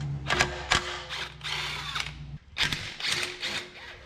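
Socket wrench or ratchet work on the starter bolts of a 1984 S-10 pickup: bursts of clicking, whirring tool noise and metallic clanks up close, broken by a short pause partway through, with no talking.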